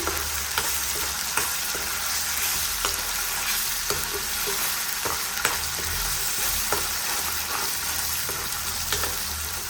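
Masala frying in a pan for a hotel-style spicy egg curry, a dense continuous sizzle with regular light scrapes of stirring throughout, close and fairly loud, no talking.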